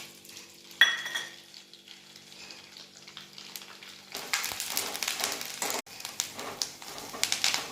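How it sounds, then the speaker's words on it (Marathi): Ingredients for a fasting chivda of sago, peanuts and potato chips are deep fried in oil; a quiet bubbling hiss and a few utensil clinks swell into a louder, crackling fry midway through. "तळून घेते."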